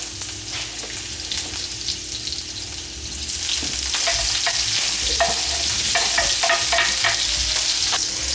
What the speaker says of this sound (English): Now that my skillet is warm, I am going to put my Polish sausage into the skillet.